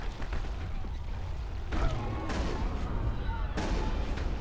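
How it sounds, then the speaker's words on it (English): Gunfire in the video game Mass Effect, aimed at the Thorian node: a steady, dense stream of shots runs throughout, with heavier bursts hitting at a few points. The combat noise stays loud and continuous, and there is no talk. "while I shoot the Thorian node"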